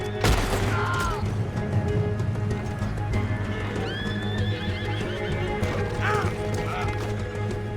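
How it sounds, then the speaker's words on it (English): Horses in the Red Dead Redemption 2 video game whinny loudly several times over a busy backdrop of hooves, rumble and distant gunfire, with voices shouting intermittently. "Let's get to those horses, Morgan!"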